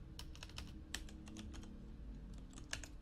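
Quick, light keystrokes on a computer keyboard enter a Linux terminal command, a steady patter of close clicks over a low background hum.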